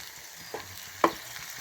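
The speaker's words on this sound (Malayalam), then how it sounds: "ഇത് നന്നായിട്ട് ഇളക്കി വഴറ്റി നല്ലപോലെ വഴറ്റിയെടുക്കുക." Ginger garlic paste sautéing in a pan for mutton curry gives a soft, steady sizzle. Two sharp scrapes of a stirring spoon against the pan stand out midway.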